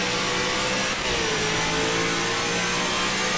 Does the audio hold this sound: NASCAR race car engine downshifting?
yes